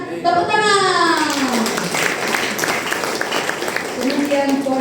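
Church congregation applauding during a sermon, a steady wash of clapping that carries through most of the stretch, with a voice and what sounds like a child's speech rising over it.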